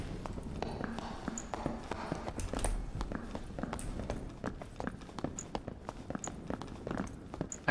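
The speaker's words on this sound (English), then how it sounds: "I hear footsteps." Footsteps in the dark fantasy dungeon game Dark and Darker, a steady run of near, sharp tapping steps on a hard floor with soft ambience underneath and no talking.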